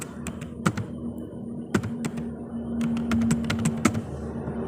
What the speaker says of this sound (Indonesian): Di sini kita ketik penyesuaian.